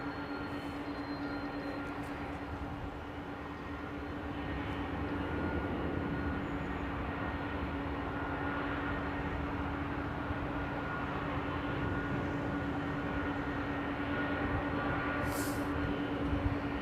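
Airliner powered by Rolls-Royce Trent XWB engines flying, a steady broad engine roar with a constant droning tone throughout, moderately loud and unchanging, no talk.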